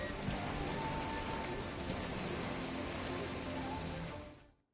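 Steady, dense rain falls in a windy storm at Lasur in Chhatrapati Sambhajinagar district, a broad continuous hiss of drops on surfaces at constant loudness, alone, before fading out at the end.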